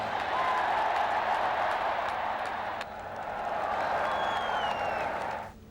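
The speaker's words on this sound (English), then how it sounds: "And just then came a thunderous round of applause as this very word won hearts of all Indians." A large crowd gives thunderous, sustained applause at an event during US President Donald Trump's visit to India. The dense clapping holds steady, dips briefly, then cuts off near the end.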